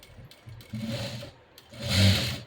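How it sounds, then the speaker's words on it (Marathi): A sewing machine stitches a hook-and-loop strip onto fabric in two close bursts of steady mechanical whirring with a brief pause between them, heard nearby without talk. "त्यानंतर परत इथे ही दुसरी शिलाई देते तर दुसरी शिलाई देताना हे असं आपण दुमडून घेऊया"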